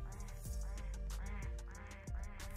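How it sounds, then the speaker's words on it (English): Ducks being thrown around in an online video game quack loudly and repeatedly in quick overlapping calls, with a steady game soundtrack running underneath. "Why is everyone just throwing ducks around?"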